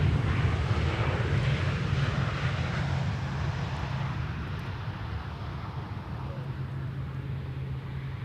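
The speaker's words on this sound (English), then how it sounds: "we were both hearing an airplane that probably would be producing a contrail" A fixed-wing airplane rumbles overhead near Schiphol airport, a broad, steady engine roar that is loudest at first and slowly fades as it passes, with people talking faintly beneath.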